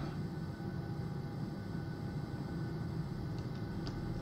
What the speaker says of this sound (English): We can hear the APUs pulling up.